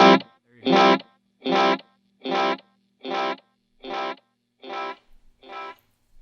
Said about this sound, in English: if I were to drive this a little bit more, you can hear there's a little bit more distortion and hair on the tape